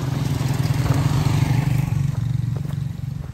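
A motorcycle engine drones past nearby on a road in San Fernando, Iloilo, a steady low rumble that fades, with some rattling clatter toward the end.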